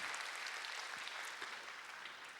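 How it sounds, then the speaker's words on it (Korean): Steady applause from a large church congregation after a choir's worship song, dense and continuous throughout, gradually tapering slightly toward the end. "함께 박수하도록 하겠습니다"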